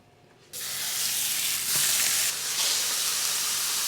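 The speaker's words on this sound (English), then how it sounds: "get the pan absolutely spitting so it's really hot, and you go straight into it, cook it so then it sears on the outside" Meat hits a very hot, spitting oiled pan to sear. A sudden loud sizzle bursts in and holds as a steady, close frying hiss with small crackles, and no talking.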